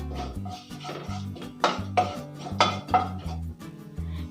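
A utensil stirs whole cloves and a piece of cinnamon stick in a metal pan, giving a steady run of scraping clinks and rattles with a few louder knocks, close and alone.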